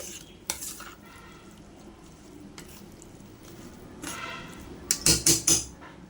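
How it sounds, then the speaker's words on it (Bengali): Chopped taro leaves are mixed with spice paste in a kitchen bowl, with soft squishy stirring under low background hiss and a cluster of sharp metallic clanks of a utensil against the dish near the end. "কচুর পাতাটার সাথে আমি মশলাটা ভালো করে মিশিয়ে নিচ্ছি"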